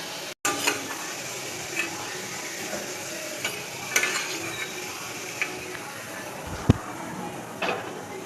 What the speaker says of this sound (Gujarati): આ રીતના ગુવારને પણ થોડી વાર ફ્રાય કરશું.